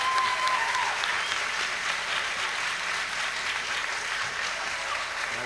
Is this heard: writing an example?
no